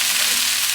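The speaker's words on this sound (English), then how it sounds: "So I'm just frying off some onions." Onions fry in a pan with a dense, even sizzle that stays close and constant throughout, with no voices over it.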